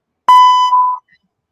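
A single loud censor bleep, a steady pure electronic tone lasting under a second, stands alone in silence over swearing on a sports talk show.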